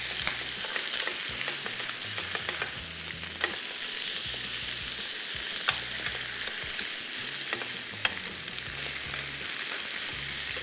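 Boneless chicken leg meat, unseasoned, sizzles steadily in a hot grill pan with a continuous hiss, broken by occasional sharper pops and crackles.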